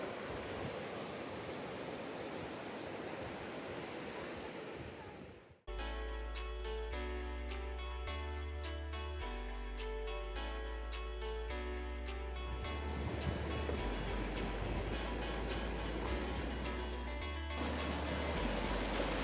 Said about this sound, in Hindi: आगे चलते हुए वाटरफॉल की आवाज़ सुनसान खाली पहाड़ों में गूंजती सुनाई दे रही थी।